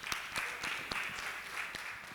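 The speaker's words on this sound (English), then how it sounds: "Clap it up one more time." Faint, scattered clapping from an audience at a school non-violence and peace day event, a handful of distinct claps spaced irregularly over low background noise.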